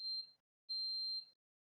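A smoke detector sounds two sharp, high electronic beeps, a short one and then a longer one, with a clear gap between them, heard alone in a quiet room.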